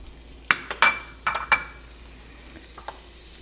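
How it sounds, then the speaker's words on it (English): Butter sizzles in a skillet with shrimp for a Creole-style dish. A soft frying hiss sits under several sharp metallic clinks and taps from a utensil against the pan, with a few more scattered knocks later. "next we're going to add about a tablespoon of butter"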